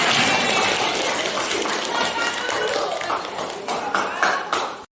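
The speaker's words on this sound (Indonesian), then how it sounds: "Terima kasih tepuk tangan." Classroom applause from students, a dense patter of clapping hands that fills most of the moment, thins near the end and cuts off abruptly.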